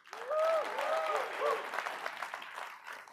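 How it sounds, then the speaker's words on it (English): Audience applause fills a live business event room, loud and sustained for a few seconds, with a voice briefly heard over the clapping at the start. "A round of applause for our broker partners that are with us live in this room today."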